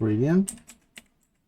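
A few brief, light clicks of typing on a computer keyboard while working in AutoCAD, following a short spoken word, close and fairly soft.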